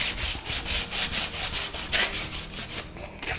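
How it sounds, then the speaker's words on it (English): Steady back-and-forth sanding on painted wood along the grain, a quick rhythm of rasping strokes close up, about three per second, with no voices. "When you are sanding, it's always best to go with the grain of the wood."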